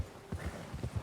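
A horse's hooves clop in a quick, uneven series of soft thuds as the agitated animal reacts to a nearby bear in Red Dead Redemption 2, faint and close.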